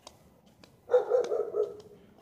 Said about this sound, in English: that dog just really disrespected me